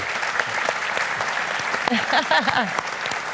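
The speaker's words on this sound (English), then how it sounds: "Can we have a round of applause for Lisa and Matthew?" An audience at a church talk on relationships gives a round of applause, with steady clapping throughout. Voices speak briefly over the clapping near the end.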